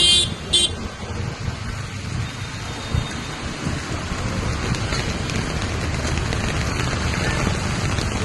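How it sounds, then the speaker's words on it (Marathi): Cars moving through a flooded street during a downpour in Ghatkopar East, Mumbai, with steady heavy rain and thunder forming a loud, dense wash; no honking stands out clearly. "बघा गाड्या काय चालल्या."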